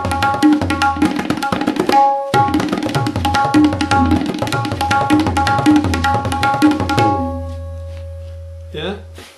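Fast tabla kaida with rela, rapid dense strokes with ringing pitched tones and resonant bass bols, a brief gap near two seconds, then the rhythm stops and a sustained bass note decays.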